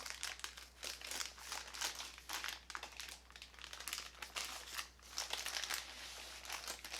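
Baking paper crinkles and rustles continuously as a chocolate Swiss roll sponge cake is rolled up in a kitchen, with close, busy crackling over a low steady hum.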